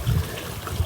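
Water bubbles and gurgles in a blocked roadside ditch, a brief, close, continuous churning trickle with low burbles.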